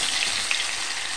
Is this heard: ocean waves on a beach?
no